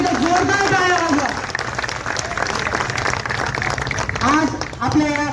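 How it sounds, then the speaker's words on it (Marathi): A crowd applauds loudly at a Chhatrapati Shivaji Maharaj Jayanti celebration in Vaijapur, a sustained burst of clapping between stretches of an announcer's voice over a loudspeaker. "सगळ्यांनी एकदा जोरदार टाळ्या वाजवा"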